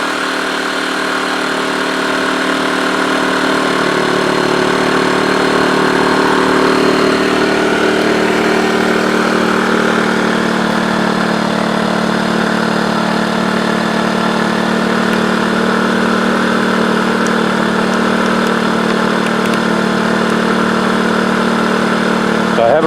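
A TACKLIFE inverter generator engine runs at a steady idle-like hum, continuous and close, with a slight rise in pitch partway through.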